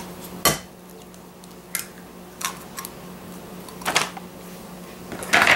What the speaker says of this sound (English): mix in the egg.